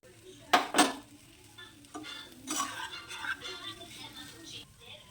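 A spatula stirs homemade noodles with fried egg in a pan, giving a couple of sharp metallic scrapes followed by soft sizzling and shuffling stirs, close and fairly quiet.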